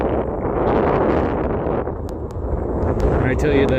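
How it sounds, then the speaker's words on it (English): Strong desert wind buffets the microphone of an electric scooter rider crossing Tucson, a loud, steady roar of rumbling gusts that covers the whole stretch and swamps any other sound. "wind is pretty much blowing almost directly in my face"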